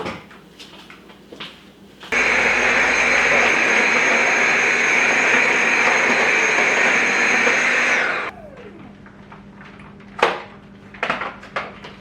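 A Dyson cordless stick vacuum cleaner switches on with a sudden loud, steady whine, runs at a constant pitch for about six seconds, then cuts off, followed by a few quiet clicks and knocks.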